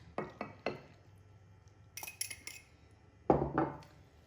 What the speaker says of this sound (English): And you just go ahead and mix all that together.